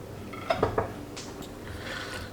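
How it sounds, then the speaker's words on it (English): A spoon clinks against a pot while stirring beef into stroganoff sauce, giving a few quick metallic taps followed by softer scraping, close and fairly quiet. "Give that a quick stir around."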